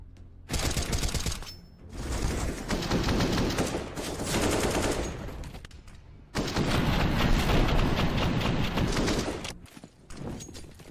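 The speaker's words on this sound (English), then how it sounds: "Zeko gonna be able to carry over an AK." Rapid automatic AK rifle fire from a Counter-Strike match: dense, loud bursts of gunshots in three long sustained volleys separated by brief pauses, with no audible talk.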